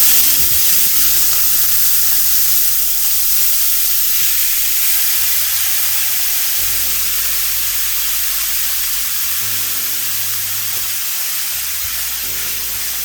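Grated papaya frying in a pan with urad dal, dried red chillies and curry leaves, giving a steady loud sizzle and hiss that runs unbroken throughout, with a few low clatters underneath.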